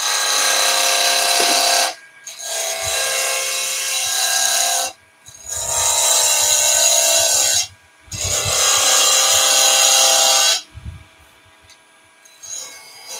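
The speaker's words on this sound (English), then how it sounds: "Quarter inch bowl gouge, 6mm bowl gouge, and I'm just going to roughing cut." Wood on a lathe is roughed down with a quarter inch, 6mm bowl gouge, giving four loud, sustained hissing cuts separated by short pauses, then quieter scraping at the end.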